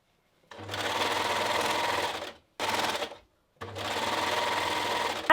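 Sewing machine stitching binding onto a shirt neckline for a Halloween costume, running in two long steady bursts separated by a short one, loud and close with brief pauses between.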